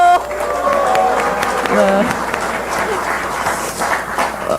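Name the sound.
audience applause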